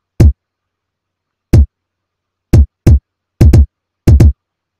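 Third drum pattern of a beat built in FL Studio 20: seven sharp, punchy kick-like hits, a lone hit, then single and closely doubled strikes in an uneven rhythm, loud and dry with silence between.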